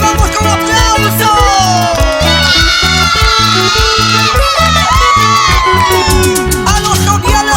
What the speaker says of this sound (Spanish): ¡Recibamos con aplauso!